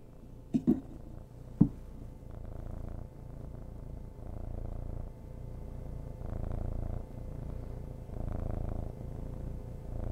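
A cat purring in a steady low rumble that swells and eases with each breath, close and soft, after a couple of sharp knocks at the start.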